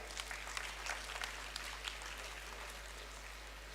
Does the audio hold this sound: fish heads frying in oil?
no